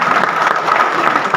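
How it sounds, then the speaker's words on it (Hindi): Audience at a one-day national convention in Lucknow claps continuously, a dense, fairly loud patter of many hands that runs steadily throughout with no pause. "अरे ताली बजा रहे हैं"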